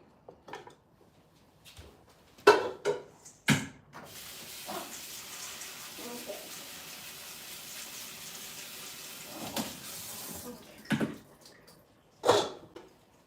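Dry beans rinsed under a running tap: a steady rush of water fills the middle of the clip, framed by a few sharp knocks and clatters of handling before and after.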